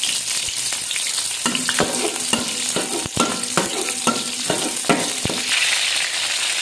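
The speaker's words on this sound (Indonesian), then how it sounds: "Kita panaskan minyak, kemudian kita tumis dulu untuk serainya." Lemongrass sautéing in hot oil, a loud bright sizzle with repeated sharp scraping and tapping strokes from stirring, close up and continuous with no talking.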